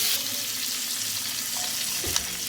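A ground spice paste sizzles in hot oil in a pan while chicken makhani is cooked, giving a continuous close crackle with a brief clink of a spoon near the end and no talking.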